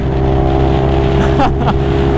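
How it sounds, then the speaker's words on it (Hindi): A Kawasaki H2R motorcycle engine drones steadily on the road during a ride, a loud close hum with wind rush, plus a brief rising rev or whine partway through. "test run of Kawasaki H2R believe me it is a beast it's a flawless piece"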